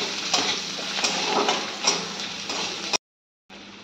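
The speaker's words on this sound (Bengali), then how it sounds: "এবার ওই তেলের মধ্যে আমি কেটে রাখা পেঁয়াজটা দিয়ে দিচ্ছি। পেঁয়াজটা দিয়ে খুব ভালোভাবে নাড়িয়ে চাড়িয়ে তেলের সঙ্গে মিশিয়ে নিতে হবে।" Chopped onion sizzles and crackles as it fries in hot oil, with steady scraping stirs through the pan, then a sudden half-second break before the frying resumes. Close, loud and continuous, with no talking.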